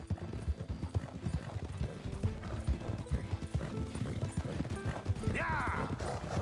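A donkey's hooves clip-clop in a steady, close rhythm in Red Dead Redemption II, with faint game background sounds and a brief whinny-like cry near the end.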